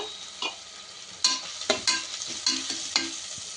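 Browned onions fry with green chili paste and mint in a pan, a soft sizzling bed broken by repeated scraping stirs and sharp spattering bursts, close up with no talking.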